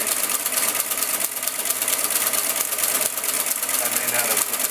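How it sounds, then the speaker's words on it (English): A Friden Flexowriter typewriter printing, its basket shifting as it strikes every upper and lower case character, produces a rapid, continuous mechanical clatter with a steady motor hum underneath, close and loud with no pauses. "Now it's shifting the basket, hitting every character,"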